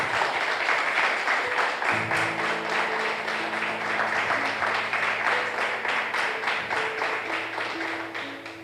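Applause from a church congregation, dense clapping throughout while a sustained organ or keyboard chord enters partway and rings underneath, fading slightly at the end.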